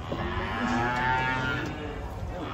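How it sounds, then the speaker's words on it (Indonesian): A bull moos while being unloaded from a truck, one long, loud, droning low call that rises and holds steady, close by against a faint outdoor background. "Ternyata banteng ini guys, jantan."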